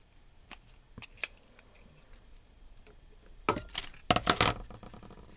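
Scissors snipping through patterned paper card for a shadow box craft, a few scattered faint ticks early on, then a close burst of quick crisp cuts toward the end.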